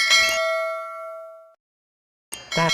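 A bright notification bell dings once, ringing out clearly and fading over about a second and a half, followed after a short silence by another brief chime.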